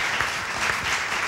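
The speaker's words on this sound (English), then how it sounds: "Round of applause." Audience applause at a panel discussion, a steady wash of many hands clapping throughout at moderate loudness, with no voices standing out.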